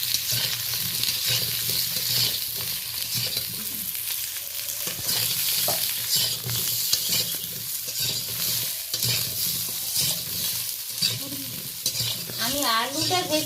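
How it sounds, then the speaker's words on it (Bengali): Ridge gourd stirred lightly in a small amount of oil, a steady loud sizzle with scraping spoon strokes throughout, no voices. "ঝিঙেটাকে হালকাভাবে নেড়ে নেব, বেশি ভাজবো না"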